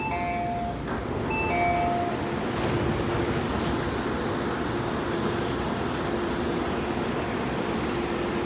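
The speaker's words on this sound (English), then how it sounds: "The train to Hong Kong is arriving." Train pulling into Kowloon Station on the Hong Kong line: a steady low rumble with a faint sustained hum, preceded by a short chime tone near the start, and moderate, even loudness throughout.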